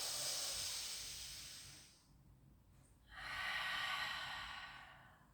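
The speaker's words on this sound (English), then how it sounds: "Big deep breath." A big deep breath during a rehab Pilates exercise for shoulder, back and neck, heard as a long airy hissing exhale, a short quiet gap, then another strong sustained breath, close and alone.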